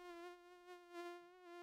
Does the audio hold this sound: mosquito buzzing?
yes